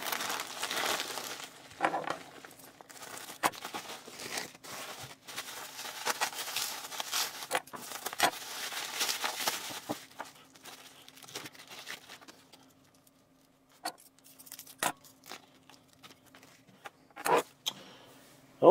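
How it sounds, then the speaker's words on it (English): A parcel holding a silver bar being torn open by hand, with bursts of crinkling and ripping packaging, sharp crackles and rustles close to the microphone, then a short quiet spell before more crumpling. "I do have this package here, and I'm excited to rip into it"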